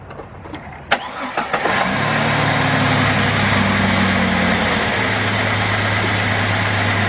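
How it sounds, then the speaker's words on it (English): A 2002 Jeep Grand Cherokee Laredo engine cranks with a few sharp clicks and catches, then settles into a steady, loud, close idle that holds without any talk. "Alright, I'm going to go start the vehicle up."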